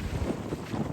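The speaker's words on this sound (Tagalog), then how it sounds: "Ganda ng hangin dito. Ganda ng breeze." A mountain breeze moves among pine trees on Mount Kalugong in La Trinidad, Benguet, heard as steady low wind rumble buffeting the microphone throughout, with no voices.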